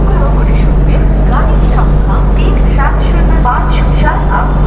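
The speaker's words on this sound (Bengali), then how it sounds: "শ্রীরামপুর থেকে ট্রেন ছেড়ে বেরিয়ে যাচ্ছে আমাদের ট্রেন।" Mithila Express train pulling out of Serampore station, a steady loud low rumble and rolling clatter running throughout, with scattered voices speaking over it.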